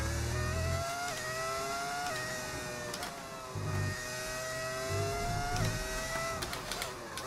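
A modded V10 Formula 1 engine on a BMW car in F1 25 screams through repeated upshifts, each gear pulling the pitch upward before dropping, with steady revving throughout.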